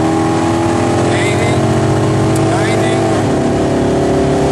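A Hemi car engine roars loudly and steadily after a downshift, pitch climbing under the strain of hard acceleration toward 110 miles an hour, with a voice speaking over it.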